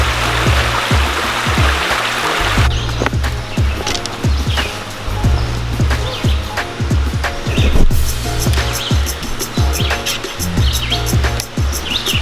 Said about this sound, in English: This is probably the 12th creek we've walked through